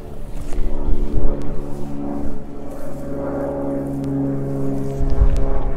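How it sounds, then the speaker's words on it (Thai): An airplane flying overhead outside a home garden, a steady loud droning rumble with a sustained tonal hum that swells and fades slightly, with no one talking. "เครื่องบิน"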